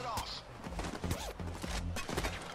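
Gunfire in the video game Payday 2, a string of sharp shots in irregular bursts mixed with other game sounds, with speech running beneath.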